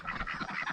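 Quacking from a small flock of backyard ducks, including a Cayuga hen, in a short, busy burst of overlapping calls close by.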